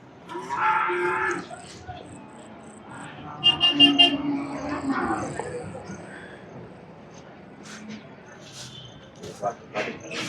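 Buffaloes and calves at the Sardar Nagar cattle market low and moo in several drawn-out calls, near and clear, mixed with scattered crowd noise and clatter.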